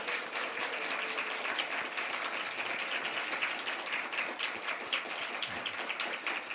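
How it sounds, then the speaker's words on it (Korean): A church congregation applauds during a Sunday praise service, dense even clapping that holds steady and fairly loud, like rain on a roof, with no speech over it. "우리 우레와 같은 박수로 한번 환영하겠습니다."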